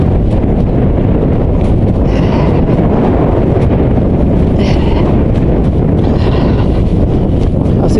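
Strong wind buffets the microphone in a loud, constant roar out on an exposed fell run near Sedbergh, with no break and little else audible beneath it.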